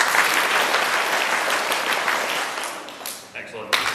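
Audience members clap together in time with a drummer, a broad rattling burst of many hands that thins out and breaks into scattered claps near the end, with a voice briefly audible.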